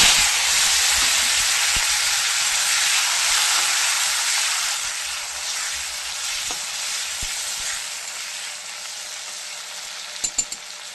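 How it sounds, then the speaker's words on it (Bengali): Tomato frying in hot oil in a pan where fish was just fried, a steady loud broadband sizzle that slowly softens, with a few sharp clinks of stirring near the end and no talk. "এই দেখুন এবার টমেটোটা তেলের মধ্যে দিয়ে দেবো।"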